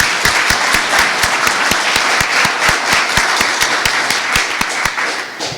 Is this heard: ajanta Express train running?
no